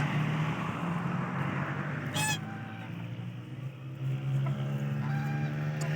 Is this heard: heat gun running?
no